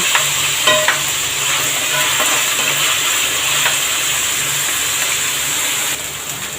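Onions fry in a pan pushed to one side where the stove flame runs hotter, giving a steady sizzling hiss with a few faint stirring scrapes, close and continuous throughout.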